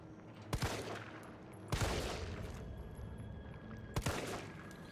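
Gunfire in the video game Resident Evil 3 Nemesis: three sharp, fairly quiet shots spaced a second or two apart over a steady background of game noise, with no talking.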